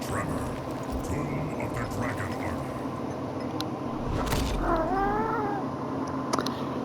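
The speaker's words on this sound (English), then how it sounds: "Sorry for my cat, he won't stop going off here." A pet cat lets out a drawn-out, wavering meow partway through, fairly close, over steady background noise from a fighting game and a person talking.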